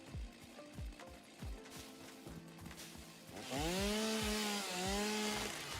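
A chainsaw in the Satisfactory video game rasps in rapid repeated bursts while cutting trees, its engine revving upward into a loud, sustained whine near the end.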